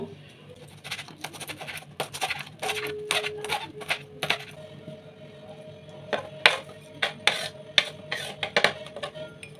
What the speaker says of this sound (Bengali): এবার কয়েকটা লঙ্কা কেটে নেব।